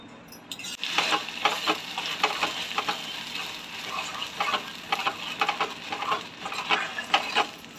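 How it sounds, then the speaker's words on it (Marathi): Ground dry red chilli chutney frying in hot oil in a pot, with a bright crackling sizzle and rapid scraping stirs in bursts, close up and fairly loud, no speech. "आपण चटणी तळून घेऊया।"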